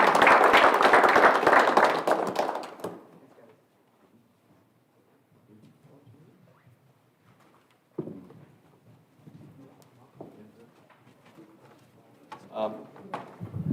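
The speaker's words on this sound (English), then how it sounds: "So a little round of applause for our dealer sponsors." A burst of loud applause at a GM ASEP graduation ceremony fills the opening seconds, then fades into quiet murmuring and scattered voices in a room.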